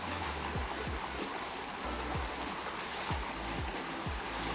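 A swim spa's jet pump runs at full force, a steady broadband rush of churning water that fills the space evenly, with faint low thumps recurring underneath.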